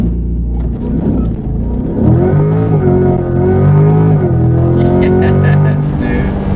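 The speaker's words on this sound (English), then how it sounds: "the very first 0 to 60, just from somebody just hopping in, flooring it" A 2020 Chevrolet C8 Corvette launches under launch control, its engine roaring as revs rise through a gear change, with wheel spin and loud, close cabin rumble and excited shouting near the end.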